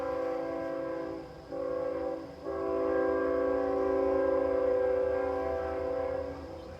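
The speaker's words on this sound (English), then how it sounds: "there's a train" A train passes nearby, its horn sounding as a loud sustained chord that briefly dips twice and then holds steady over rumbling wheels, with no talking.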